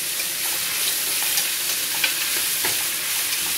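Chopped onions frying in oil with dry spices, plus ginger, garlic and green chilli, for a mutton biryani: a dense, even hiss of sizzling with faint stirring scrapes, close and loud throughout.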